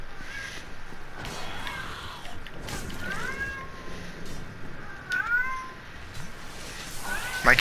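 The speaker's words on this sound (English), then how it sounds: "My cat is deciding to be mouthy." A pet cat meows repeatedly in the background, several drawn-out, rising calls spaced a few seconds apart over video game sounds, with a louder cry near the end.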